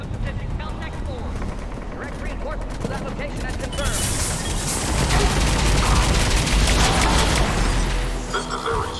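Enemy gunfire and booming explosions in Mass Effect 3, heavy and continuous, swelling louder partway through, with voices talking over the combat.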